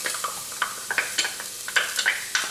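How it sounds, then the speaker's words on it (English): Garlic goes into a pan of softening onions, producing a close, steady sizzle laced with light scraping stirs and small crackles, with no talking. "So the onions have started to soften now, as you can see. And I'm just going to add the garlic in."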